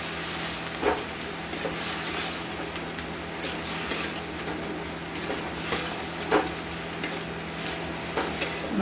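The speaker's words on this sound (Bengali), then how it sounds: "এবার আমরা দিয়ে দেবো সিদ্ধ করা মোচাটা। দিয়ে এবার মশলার সাথে আমরা এটাকে কষে নেব।" Boiled banana flower is stir-fried in spice paste in a pan, giving a steady close sizzle with recurring scrapes and knocks of a spoon stirring against the pan.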